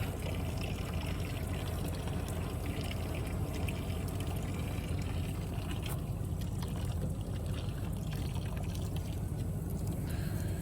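Water drains from a barrel tank through a pipe, a steady broadband rushing and gurgling that stays even and close for the whole stretch, with no voices.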